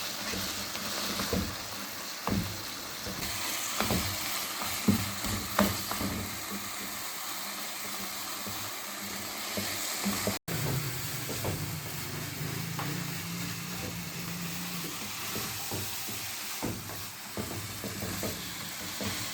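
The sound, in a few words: stirring khoya into carrot halwa in a pan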